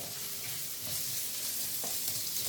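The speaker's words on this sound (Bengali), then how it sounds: "চিকেনটা আমি হালকা হালকা ভেজে নিয়েছি" Chicken frying in hot oil in a pan, a continuous hiss with occasional scrapes of stirring, close and steady throughout.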